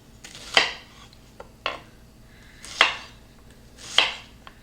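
A knife cuts an onion into big pieces on a board, four sharp distinct chops spaced about a second apart with quieter taps between, close and without talk.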